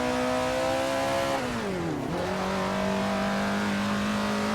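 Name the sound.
1930s Maserati engine at Monza in video game Assetto Corsa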